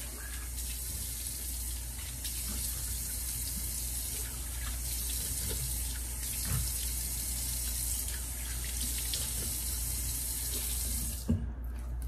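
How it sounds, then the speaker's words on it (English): Water runs steadily from a bathroom tap into a sink while a face is rinsed after a shave, a constant close rushing stream with light splashes and a soft knock near the end before it cuts off. "I'm gonna go ahead and rinse my face"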